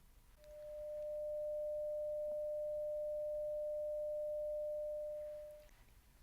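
A 600 Hz hearing-test tone plays as a single steady pure beep, fading in and holding for about five seconds before fading out, alone and soft against quiet background.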